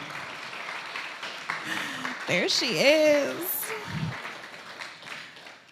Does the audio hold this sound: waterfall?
no